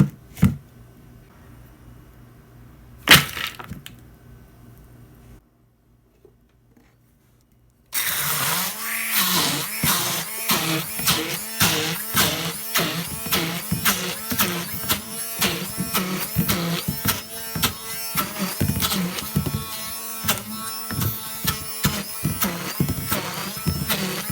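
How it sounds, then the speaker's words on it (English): An immersion blender purees soaked lentils in a deep container, starting after a quiet pause with a loud, close, continuous motor whir and rhythmic pulsing chop as the blade churns the thick mixture. "I'm gonna be using an immersion blender, and I'm gonna be using like a quite a deep of a container, so I can put my lentils inside and blend them"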